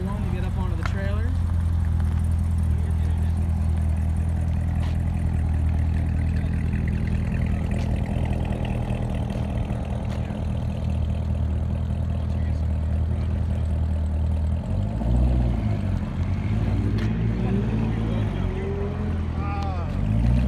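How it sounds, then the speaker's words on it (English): Corvette ZR1 rumbling at low speed as it is lined up to climb onto a trailer, a deep steady engine idle with a brief rise in revs near the end, under people talking nearby. "Dave is lining up the ZR1 to get up onto the trailer."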